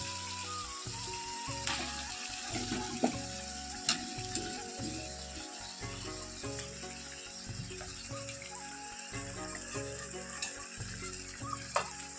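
Pieces of meat dropped one by one into masala sizzling in oil, a continuous crackling fry broken by repeated clunks and scrapes of placing and stirring, with occasional splashes and no talking.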